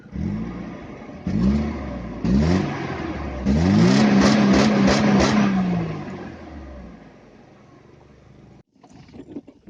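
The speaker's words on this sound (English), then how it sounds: "so let's start the car" A Mercedes C200 W202 car engine cranks and fires in a few short bursts, then settles into a steady, rising run with revving before cutting out.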